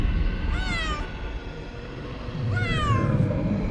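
A cat meows twice, each call a clear rising-then-falling wail about two seconds apart, heard close and alone over a soft steady background.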